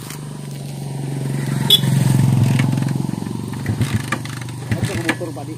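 A motorcycle engine starts and runs, a steady low rumble that rises and then settles into a rough, pulsing idle, with people talking over it.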